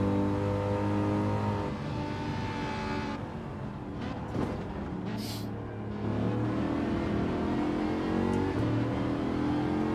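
Race car engine in Gran Turismo 7 on a slow tyre-saving lap, a steady mid-level drone that dips briefly and then climbs as the car accelerates again, alone without talk.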